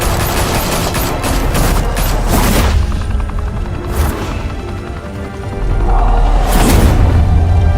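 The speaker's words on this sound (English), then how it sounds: "Open fire!" Gunfire in the Batman Telltale Series game, with loud rapid volleys of automatic shots and booming impacts repeating through the clip, dense and close with no speech.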